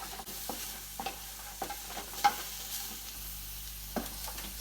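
Onions and garlic sweat in a pot for seafood chowder, a soft continuous sizzle with periodic spoon scrapes and taps from stirring, fairly close and quiet.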